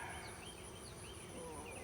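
Honeybees drone steadily inside an open hive while a frame is lifted out for inspection, a dense, continuous close-up buzz with no pauses.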